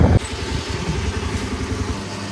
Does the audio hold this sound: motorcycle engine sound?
yes